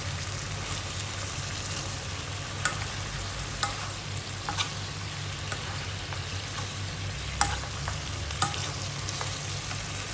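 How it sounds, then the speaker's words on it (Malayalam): Pork and onions are stirred in a hot pan for Angamaly pork roast, a constant sizzle under occasional clinks and scrapes of a spoon against the pan, steady and close without speech. "എല്ലായിടത്തേക്കും ഈ സവാള ഇതൊക്കെ ഒന്ന് ഇറങ്ങുന്ന രീതിയിൽ നന്നായിട്ട് മിക്സ് ചെയ്ത് കൊടുക്കുകയാണ്"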